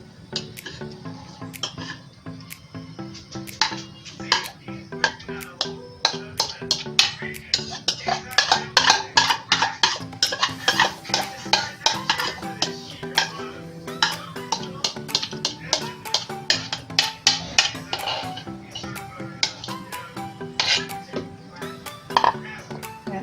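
Corn kernels are stirred in a simmering broth inside a cooking pot, with a long run of close, irregular clinks and scrapes from a spoon against the pot over a bubbling background.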